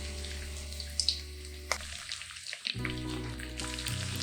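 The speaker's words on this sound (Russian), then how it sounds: "Масло уже немного нагрелось, отправляю туда лук." Onion tipped into hot vegetable oil in a frying pan sizzles with a soft hiss, a few light clatters and bursts near the start, then a steady quiet crackle close by.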